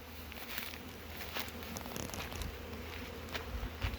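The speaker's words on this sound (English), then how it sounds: "Everybody flying around me, except for a couple of the drones, they're all worker bees." Worker honey bees, with a few drones, buzz around a hive on orientation flights, a steady close swarm drone with individual bees zipping past the ear, faint crackles underneath.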